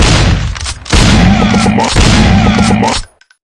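Heavy gunfire from the Commando video game rolls in two long, dense bursts of shots and booms, loud and close, before cutting off abruptly into near silence.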